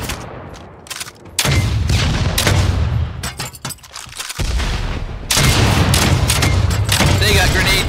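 A minigun fires in the video game Project Stray, with dense, continuous bursts of rapid gunfire separated by short pauses, loud and close, with a voice talking over parts of it.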